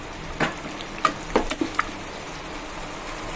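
A spoon scrapes and taps through masala and ketchup in a pan, producing a few quiet scattered clinks and soft stirring over a faint sizzle.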